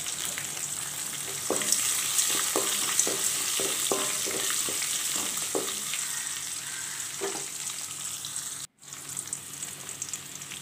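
Chopped garlic sizzles steadily in hot oil for a brinjal pachadi, a continuous hiss with a run of soft stirring clicks in the first half and a brief dropout near the end, no voices.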